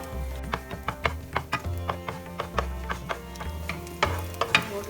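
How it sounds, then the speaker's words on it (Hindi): Finely chopped coconut fries in oil in a pan and is stirred with a utensil, giving sharp, close scraping clicks in an uneven rhythm over a soft, steady sizzle. "स्लाइटली गोल्डन आने तक फ्राई करना है।"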